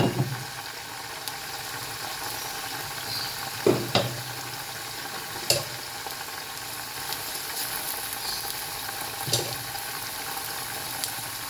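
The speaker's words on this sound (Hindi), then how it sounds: "एक तरफ हमारी प्याज पक रही है" Chopped onion cooks in about two spoons of cooking oil in a pan, hissing in a continuous sizzle broken by a few sharp clinks and stirring knocks, with no one speaking.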